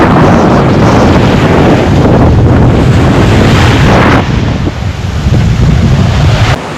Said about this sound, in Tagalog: Kung kanina maliit pa yung alon, ngayon malaki na.